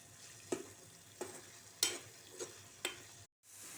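Masala for a surmai fish curry fries in oil in a pan with a soft steady sizzle, punctuated by five spaced scraping strokes of a spoon stirring, close and fairly quiet.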